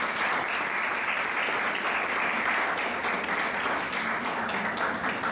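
A church congregation claps during a sermon, a dense, continuous and fairly loud wash of many hands clapping together throughout.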